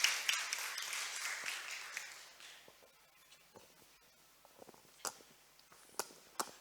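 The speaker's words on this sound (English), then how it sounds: "Please, big round of applause to this young champion" Audience applause at a gala dinner and awards night for a young award winner, a broad wash of clapping that fades over the first few seconds, followed by scattered single claps in a quieter room.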